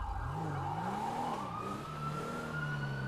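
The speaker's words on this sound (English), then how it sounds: "they're still running around with lights and sirens" Wailing police siren in a police-patrol video game, a steady loud tone sweeping slowly up and down over continuous low engine rumble, with no talking.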